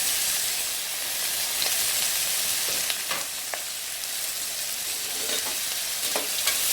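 Onions and whole spices such as bay leaf, cloves, fennel and cinnamon sticks fry in very hot oil, giving a steady close sizzling hiss with a few soft stirring scrapes and clicks, no voices.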